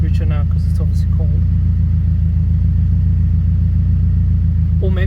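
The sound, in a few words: car engine idling cold, running rich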